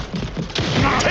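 Video game gunfire bursts and booms, dense and loud, layered in quick succession under an excited voice shouting over the action.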